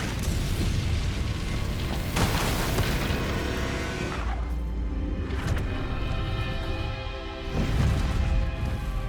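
The Incendio fire spell in Hogwarts Legacy erupts as a loud, sustained roaring burst of flame and explosive rumble, swelling again near the end, with no talking.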